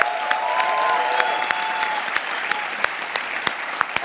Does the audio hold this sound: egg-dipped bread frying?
no